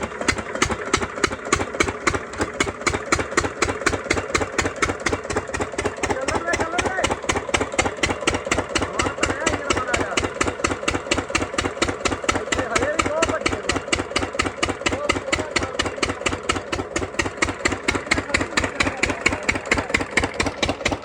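A small irrigation pump engine chugs steadily with a fast, regular thumping beat, running continuously at close range without pause, pumping water for paddy fields.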